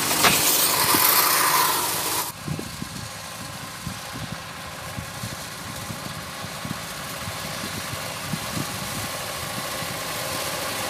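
A tractor-pulled straw-sweeping machine for stubble and straw runs steadily nearby, its engine idling with a continuous mid-pitched rumble and small irregular knocks, after a brief burst of louder broadband noise at the start.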